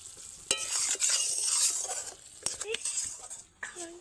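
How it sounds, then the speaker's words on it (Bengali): Amla simmers in hot oil in a wok, giving a steady bright bubbling hiss with occasional metal clinks and scrapes of stirring, close and fairly loud, no talking. "তো চলুন আমলকিটাকে সেরকমভাবে ফুটিয়ে নিই।"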